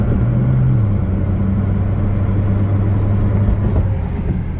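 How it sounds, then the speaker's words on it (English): An old rat rod truck rolls past with a steady, loud low engine rumble that holds throughout and fades slightly near the end. "Check out this old truck."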